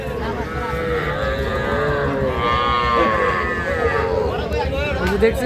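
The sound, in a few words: cattle calves mooing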